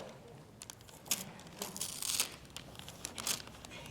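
Soft crinkling and crumpling as a package's paper or plastic wrapping is handled and torn, in irregular bursts close by with no talking.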